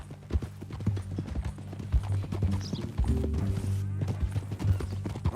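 Horse hooves clip-clop steadily in Red Dead Redemption 2, a rhythmic run of close, loud hoofbeats over a low droning background with a brief whinny-like sound.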